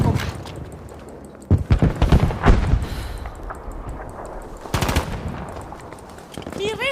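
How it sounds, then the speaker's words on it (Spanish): Rifle gunfire in a combat video game: rapid automatic bursts and scattered shots crackle over busy battle ambience, with brief voices and in-game radio chatter mixed in. "¡Mi rifle dispara sin problema!"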